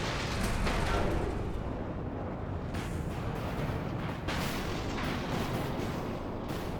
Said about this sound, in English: We're literally being fired out of a goddamn rail cannon to cross the ocean.